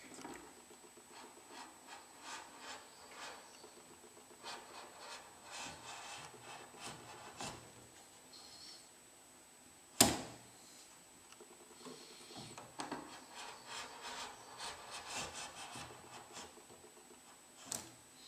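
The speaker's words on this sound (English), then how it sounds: "With a sharp knife, the profile is incised in the wood." A sharp knife incising a profile into wood while making a seax, giving quiet, steady scratchy rubbing strokes with a sharper knock near the middle, close and alone.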